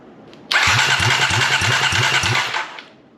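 A Kawasaki KLX250 motorcycle with only half its exhaust fitted cranks on its starter with no fuel in it, a loud rhythmic chugging that starts abruptly, runs for about two seconds, then dies away.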